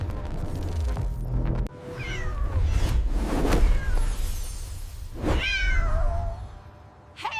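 A cat meows several times in drawn-out, rising and falling calls with short gaps between them, close and fairly loud, with a low background rumble and no talking.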